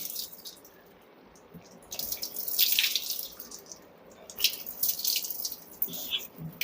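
Water is poured and runs over the face during wudu ablution, coming in uneven splashing bursts with quieter gaps between them, close and fairly clear.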